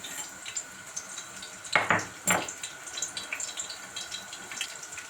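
Garlic fries in a pan for eggplant adobo, a soft steady crackle and sizzle with a couple of louder scraping stirs near the middle.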